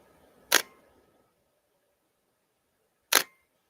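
Two crisp shutter clicks from an OM System OM-1 camera, close and isolated in a quiet room, a couple of seconds apart.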